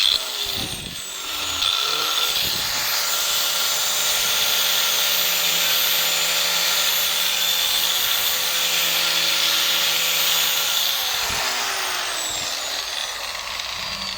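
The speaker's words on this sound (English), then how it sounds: "So I'm just shaping it with ordinary grinder" A handheld grinder shapes a small, very soft piece of raft wood into a tool handle, running steadily and loudly for the whole stretch with a harsh whine and no talk.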